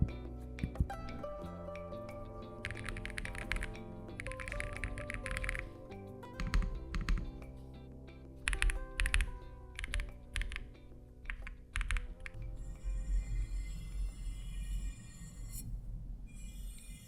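Rapid typing on a Womier SK65 65% mechanical keyboard, a steady stream of close, crisp key clacks in uneven bursts that continues for many seconds without speech.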